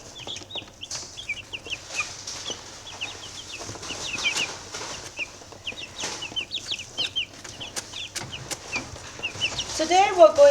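Chickens cluck and chirp in short scattered bursts throughout, fairly quiet and close, with a louder, busier flurry near the end.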